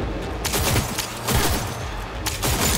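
Rapid gunfire in the video game Cyberpunk 2077, dense bursts of loud close shots with booming low thumps, firing almost continuously over a few seconds.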